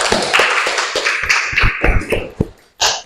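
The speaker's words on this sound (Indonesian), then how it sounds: "sekali lagi tepuk tangan untuk kita semua" A classroom group applauds at the close of a teaching-practice lesson, a quick run of sharp hand claps that thins out into a few scattered final claps, close and fairly loud with no talk over it.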